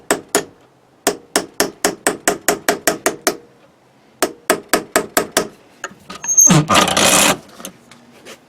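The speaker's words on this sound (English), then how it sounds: "So essentially we're hammering that pin into the wood" A hammer strikes a pin into the persimmon wood head of a golf club during restoration, delivering two long runs of sharp, rapid, evenly spaced taps close up, followed by a brief burst of broadband noise.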